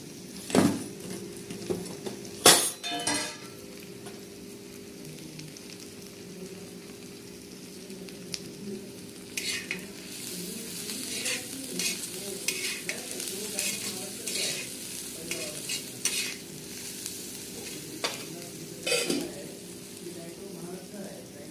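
Onion, green chilli and turmeric frying in a pan, a soft steady sizzle with repeated stirring scrapes and clinks, and a voice talking over it at times.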